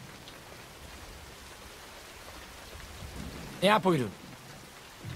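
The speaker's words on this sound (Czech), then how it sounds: "Ale ten déšť by nám mohl trochu pomoct." Steady rain falls in a continuous hiss throughout, a moderate downpour heard alone until someone speaks briefly near the end over it.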